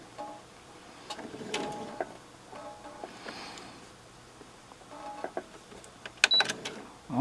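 A sewing machine stitches fabric along a drawn triangle on a homemade face mask, with short, quiet whirring runs separated by pauses and a few sharper mechanical clicks near the end.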